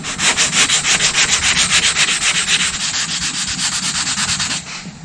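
Sandpaper on a sanding block rubbed over a dented panel in steady back-and-forth strokes, a loud, close, rhythmic rasping that holds for several seconds before easing off at the end.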